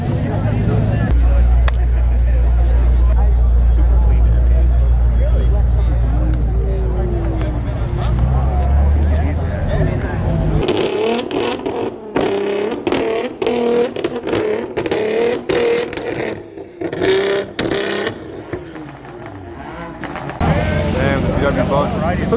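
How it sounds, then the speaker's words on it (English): Cars rolling into a nighttime BMW car meet in LA, engines rumbling loud and close with revving under steady crowd chatter, then lighter idling and passing vehicles as voices carry on throughout. "more and more cars are just pulling in"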